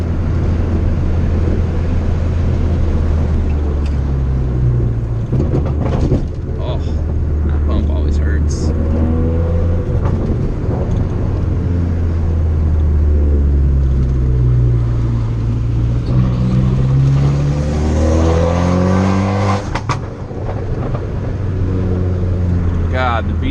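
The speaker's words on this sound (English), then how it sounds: "God, the beautiful sounds of my Fiat." A Fiat widebody car with a turbo and loud exhaust revs steadily through a canyon, its engine note rising and falling with gear changes and a few crackles. Someone talks over the engine noise.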